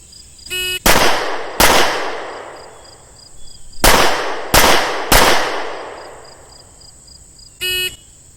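Five loud, sharp handgun shots from an M&P 40L ring out at close range during a Massachusetts handgun qualification, spaced in two groups, with electronic beeps before and after.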